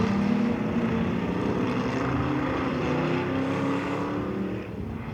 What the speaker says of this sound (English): Rob Manson driving the Kurtis 500S Dodge from